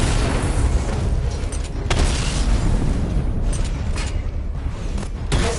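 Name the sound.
explosions destroying targets in Batman: Arkham Knight video game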